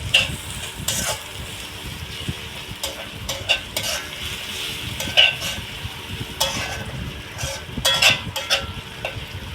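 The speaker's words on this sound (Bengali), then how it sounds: "এই আদা রসুনের পেস্টটা আমি 1 মিনিট একটু কষিয়ে নিব" Ginger-garlic paste frying in a pan for a fish dish makes a steady sizzle that runs throughout, with repeated stirring scrapes and light metallic clinks of the spoon on the pan. The sounds are close and nobody speaks.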